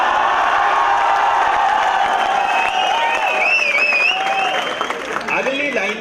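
An audience at a comedy show at Chandigarh University claps and cheers, a dense wash of applause with shouts and whoops that thins toward the end.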